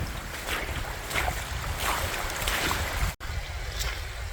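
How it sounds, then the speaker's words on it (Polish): Water flows steadily through a canyon in Jordania, making a continuous broad rushing wash at moderate level, interrupted by a momentary cutout near the end. "No chyba dlatego, że woda płynie."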